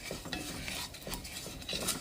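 Ground cumin, onion powder, garlic powder and bouillon powder sizzle softly in a hot pan while being stirred, with scraping strokes and light crackle, faint and close, no voices.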